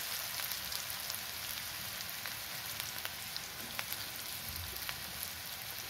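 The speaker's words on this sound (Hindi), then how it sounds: "इनको डाल के हम अच्छे से भून लेंगे। और थोड़ी सी हल्दी डालेंगे और इसमें मैं अपने गट्टे ऐड कर दूंगी।" Gatte fry in hot oil with chilli pieces and turmeric, giving a steady crackling sizzle, close and even, with small pops scattered throughout and no voices.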